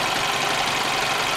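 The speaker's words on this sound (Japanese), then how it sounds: "アイドリングがちょっと低めなのかなと思うんですよ" A 2004 Nissan March's engine idles at a low speed, producing a steady, close, continuous rumble and hiss that holds constant with no voices.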